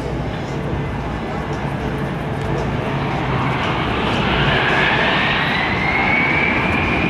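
C-17 Globemaster III military jet transport flying a demonstration at a joint services open house, a loud, steady roar of jet engines with a rising whine toward the end, heard beneath a voice talking.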